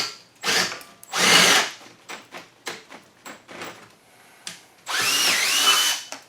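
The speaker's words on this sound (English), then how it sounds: "Now I just have to open up one hole and drill a new hole." Power drill boring a new hole through a rusty Toyota Camry strut for a 1999 Camry demolition derby car; two loud sustained drilling bursts, a series of short clanks and taps, then a final longer whining drill run.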